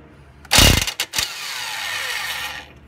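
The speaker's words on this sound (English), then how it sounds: "I'm going to put the socket onto the bolt, and since this is a long impact wrench" A long impact wrench spinning a bolt on a Nissan Altima during CV axle and wheel bearing repair, loud rattling hammer bursts followed by a sustained whirring as the bolt runs out.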